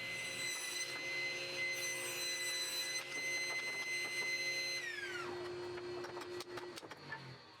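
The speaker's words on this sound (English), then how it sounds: "Each one got milled down and sawn into 2-inch wide pieces on the table saw." A table saw rips milled cedar blocks into 2-inch-wide strips, its blade whine holding steady and loud, then pitching down as it spins down near the end.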